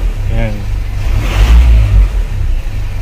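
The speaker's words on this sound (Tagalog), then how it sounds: "Tapos yung idle natin, tapakan ko yung accelerator." A car engine idling, then revved as the accelerator is pressed, its low rumble swelling to a peak mid-clip before settling back, with a brief voice at the start.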